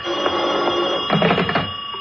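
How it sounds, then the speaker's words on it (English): An old-fashioned telephone bell rings in a 1949 radio drama, a steady electric trill with a second burst of ringing, close and clear against a faint room hiss. "Wait, there's the phone."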